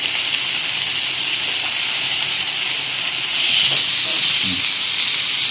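Chicken pieces fry in a pan for a North Indian style curry, giving a steady, loud broadband hiss of sizzling oil throughout that swells slightly toward the end.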